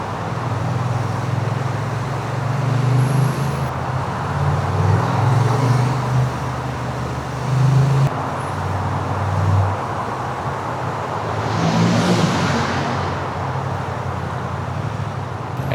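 A Honda Transalp 750 motorcycle rolling slowly in second gear while filtering through traffic, its engine a low, uneven rumble beneath loud road noise and passing vehicles, with a brief swell of a nearby vehicle near the end.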